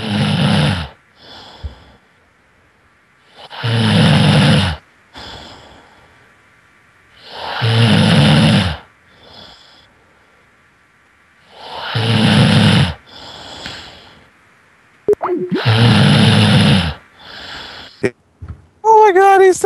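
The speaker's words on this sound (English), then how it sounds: "he's still snoring" A sleeping person snores loudly and close by in a slow regular rhythm, five long rasping inhalations with quieter breaths between, and another voice talks briefly near the end.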